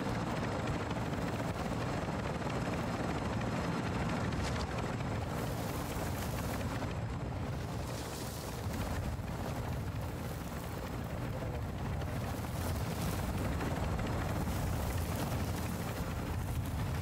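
Helicopter rotor chop in the shooter video game DMZ, a steady loud thrumming drone that stays constant throughout, dense and close with no talk over it.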